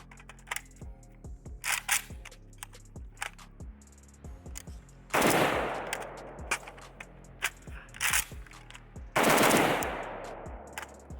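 Bursts of gunfire from a Pioneer Arms 556 sporter underfolder AK: single sharp shots spaced through the first seconds, then two dense rapid strings, loud and close, with handling clicks between them.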